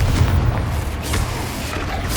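Confringo fire spell blasting in Hogwarts Legacy, a loud, muffled booming roar that holds steady for about two seconds with low rumble throughout.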